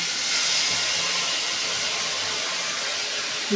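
Mustard paste hits hot oil left from frying parshe fish, after a nigella seed tempering, and gives a loud, steady, close sizzling hiss that carries on throughout.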